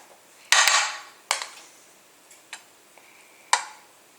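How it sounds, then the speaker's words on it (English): Waffle batter spooned into a donut pan, a few sharp metallic clinks and taps spaced irregularly, close and fairly loud against near silence. "I'm just going to spoon that in here into the donut pan"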